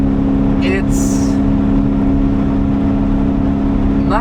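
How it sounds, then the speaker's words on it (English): A Porsche 928 engine holds a steady, loud drone on the Nürburgring, heard from inside the car with faint rising whines over the constant hum. "Let's drop the revs a bit more."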